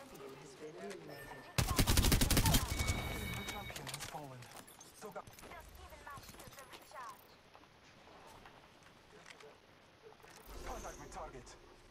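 Video game gunfire erupts in a loud burst of rapid automatic fire, then continues in scattered quieter shots as players talk over it.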